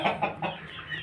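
Several short clucks from a rooster come close together at the start, then softer clucking trails off, with no talking.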